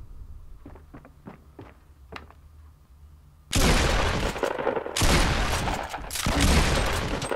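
Gunfire in Fortnite Battle Royale: a few faint ticks and footsteps, then loud grenade launcher and SMG fire erupts abruptly and keeps going in heavy, close bursts.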